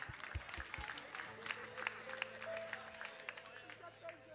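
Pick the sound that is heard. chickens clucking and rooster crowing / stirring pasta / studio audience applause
studio audience applause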